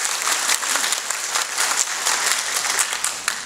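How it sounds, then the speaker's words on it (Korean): Audience applause fills a Bonghwa county governor candidates' policy debate, a dense, steady clapping from a large crowd that holds loud and even throughout without a break. "한 박수 부탁드립니다."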